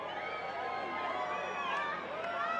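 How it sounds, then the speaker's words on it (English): A large outdoor crowd watching a total solar eclipse cheers and shouts excitedly as totality approaches, with many voices rising and whooping together in a steady wash of sound. "Crowd's getting excited."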